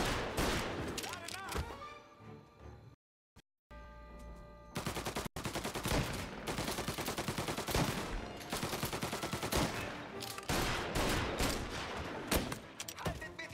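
Heavy automatic and single gunshots from Mafia Definitive Edition crackle almost nonstop, with one brief silent gap. Shouting voices are heard over the loud firefight.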